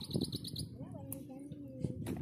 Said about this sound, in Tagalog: Kundi kuliglig ng ibon.